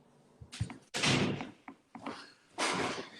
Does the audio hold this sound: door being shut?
yes